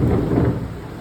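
Heavy thunder rolls loudly overhead with steady rain falling, a deep rumbling that slowly fades over a constant patter.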